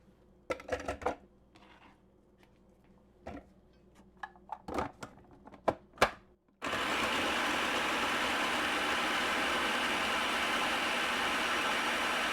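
Food processor mincing onions for Amish sweet pickle relish: a few short clicks and pulses, then a loud, steady whirring motor that runs continuously to the end.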